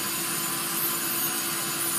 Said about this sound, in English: Just run over lightly with this sanding drum I do have